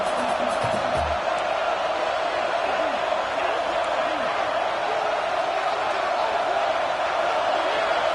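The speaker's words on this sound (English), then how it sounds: "how nice is it to have the home crowd going absolutely bananas?" A home crowd roars steadily in a college football video game, a dense continuous wall of cheering with a play-by-play commentator talking over it.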